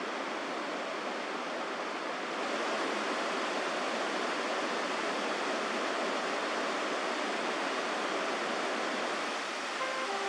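Fast-flowing water of the Pentridge River rushes through misty forest near Nymph Falls in the Comox Valley, British Columbia, a steady, dense roar that swells slightly louder after a couple of seconds and continues without pause.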